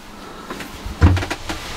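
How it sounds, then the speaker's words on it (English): A door inside a motorhome is pushed shut, giving a single dull thud with a short rattle and a few light knocks after it, close and fairly quiet. "so you can shut that door there"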